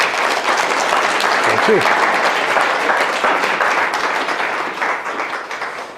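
Sustained audience applause fills the room at a Calgary heritage talk as the speaker Darrel is welcomed, steady and dense throughout, with a brief spoken thanks over the clapping.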